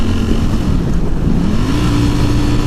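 A 2018 Ducati Panigale V4S engine revs while the bike is ridden, a loud, close, wind-buffeted drone that dips and then climbs in pitch.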